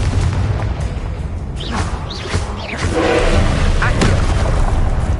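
A spell blast from a Hogwarts TV show: a loud burst of booming, crackling explosion effects that swells and carries on over several seconds, with shouted incantations mixed in.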